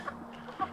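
Chickens cluck in a backyard flock kept in a Nestera coop: two brief, soft clucks a moment apart, faint and close, with no other sounds.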